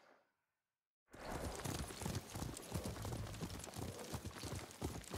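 Horse hooves in the video game Ghost of Tsushima on PS5, a brief faint sound, a second of silence, then a loud, continuous clip-clop of a galloping horse with irregular rhythm.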